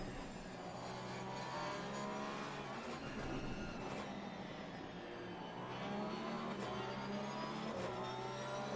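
Race car engine held at full throttle in Assetto Corsa Competizione at the Nurburgring, a steady loud whine with rising and falling pitch through gear changes, continuous and close.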